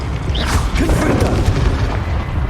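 A Confringo fire spell bursts during a Hogwarts Legacy duel on PS5, a loud rolling boom with crackling bright streaks layered over a dense, rumbling combat backdrop lasting a couple of seconds.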